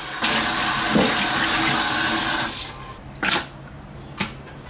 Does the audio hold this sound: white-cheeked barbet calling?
no